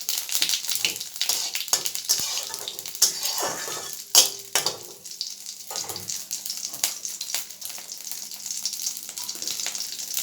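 Whole cumin and dried red chillies crackling in hot oil as a tempering for mango dal with fish head, a close, steady sizzle with occasional clinks of a utensil against the pan.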